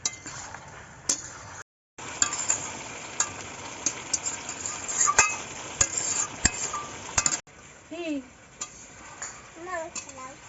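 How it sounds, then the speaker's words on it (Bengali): Chicken pieces being stirred and sautéed in a pan, with frequent metallic clinks and scrapes over a frying hiss and a brief dropout, then voices and faint chirps toward the end. "ভালো করে নেড়ে চেড়ে এটাকে কষিয়ে নিতে হবে"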